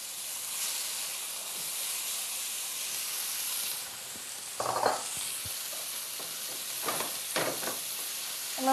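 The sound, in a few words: garlic, ginger and tomatoes sizzling in a pan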